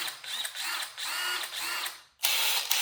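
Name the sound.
power drill running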